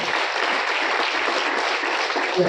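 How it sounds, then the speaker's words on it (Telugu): An audience at a business gathering gives a round of applause, a dense steady clapping that holds at an even level for the whole stretch. "ఒకసారి మీరు గ్రేట్ రౌండ్ ఆఫ్ అప్లాజ్ అండి"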